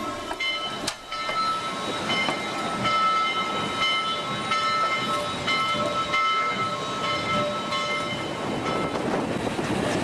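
Steam locomotive 1744 stands at the Alamosa Depot in Colorado preparing to depart, a steady rumbling mechanical din with sustained tonal whistle-like notes and a sharp knock early on, close and continuous.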